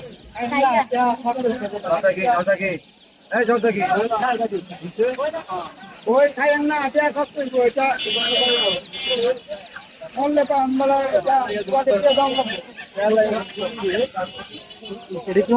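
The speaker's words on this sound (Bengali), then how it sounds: "এটা কি মুরগি বাচ্চা" Young chicks, tiger-breed and desi chickens, at a market peep and chirp in busy, repeated bursts while people nearby talk over them.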